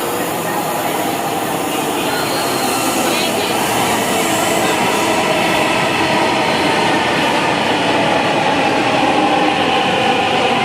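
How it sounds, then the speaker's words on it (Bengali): Metro train rolling into a station, a steady loud rumble and rail hiss that holds throughout, with faint voices in the background. "চলে আসছে আমাদের মেট্রো।"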